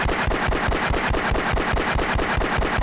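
Enemy gunfire in the video game Half-Life: rapid, evenly spaced automatic bursts, loud and close, pounding out a steady rhythm of roughly five shots per second with no talk over it.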